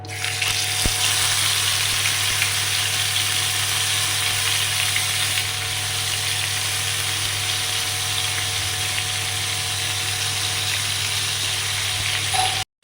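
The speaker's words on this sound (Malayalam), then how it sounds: "അതിലേക്ക് മസാല പറ്റി വെച്ചിരിക്കുന്ന മീനോട് ഇട്ട് കൊടുക്കാം" Masala-coated fish fries in hot oil in a pan, a loud, even sizzle that crackles steadily for the whole stretch with no talking.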